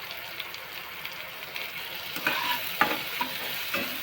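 Onion and tomato sizzle in a pan for a masala, a steady hiss that turns livelier midway as a few sharp stirring scrapes cut through, close and alone with no voices.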